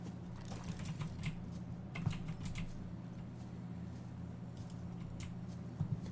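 Rapid keyboard key presses clatter steadily while someone plays Subnautica, each tap light and close over a low, constant game hum with no talk.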